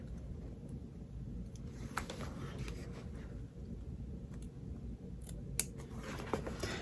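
Quiet, soft snipping of scissors working through fabric while making an in-the-hoop zipper bag, a few sharper clicks of the blades among low background rumble.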